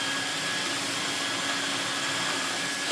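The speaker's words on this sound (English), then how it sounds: "we can pull the machine around and do some vacuuming." A vintage Kenwood A640 cylinder vacuum cleaner runs steadily, a loud, even rushing whine with a faint tonal hum and no pauses, alone with no voices.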